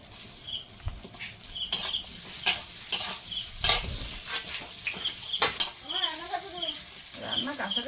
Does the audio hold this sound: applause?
no